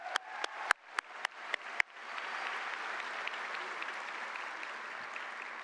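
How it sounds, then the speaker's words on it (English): Applause from a graduation audience for a high school choir: a few sharp, separate claps at first, then dense sustained clapping from a large crowd that holds steady to the end. "Can we give them one more hand of applause?"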